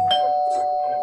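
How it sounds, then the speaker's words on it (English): A cartoon doorbell from SpongeBob rings with a clear, sustained electronic chime tone lasting about a second, loud and close, with a faint background voice. "Just ring the doorbell already."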